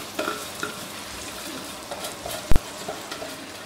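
Vegetable biryani being stirred and fried in a pot: soft, scattered scraping and gentle sizzling at low volume, with a few light knocks and one sharper clink near the end.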